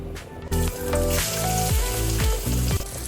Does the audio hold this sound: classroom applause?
no